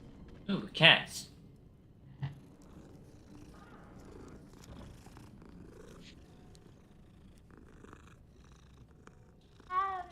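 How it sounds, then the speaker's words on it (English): Cats in Hogwarts Legacy video game give a couple of short meows near the start and another at the end, over a low steady purr and faint room ambience, with no talk. "Ooh, cats."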